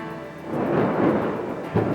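Thunder from a thunderstorm rolls as a loud, deep rumble that swells through the middle and ends with a sharper burst, with no voices over it.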